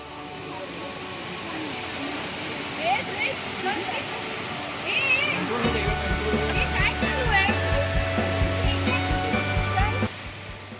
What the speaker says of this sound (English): the sound of the water crashing against the rocks is a music to the ears